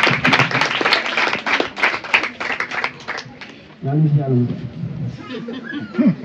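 A classroom audience at a French-language quiz final claps together, a brief burst of applause close by, followed by chatter and laughing voices.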